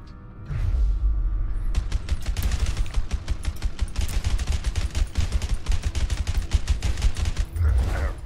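Rapid bursts of gunfire from the video game A Way Out, a dense run of sharp repeated shots with brief pauses, loud and close, with no talking over it.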